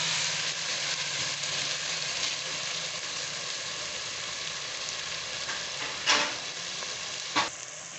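Cabbage stir-fried in a pan for a mixed vegetable sabzi, giving a steady, close hiss of frying with soft stirring scrapes throughout and two brief louder scrapes near the end.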